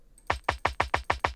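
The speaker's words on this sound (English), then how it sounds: "I added another layer of kick drum" A layered extra kick drum, stripped of some lows and highs, played alone as seven evenly spaced thumps in steady rhythm, each with a punchy attack and a short decay, fairly quiet and close.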